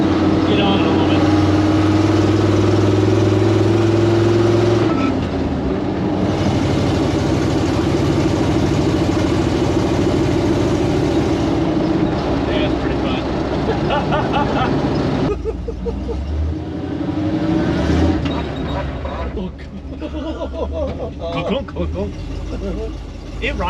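An old Dodge Power Wagon truck with a custom exhaust and 391 gearing, its engine droning steadily while cruising and then dropping to a lower rumble; people talk over the engine throughout.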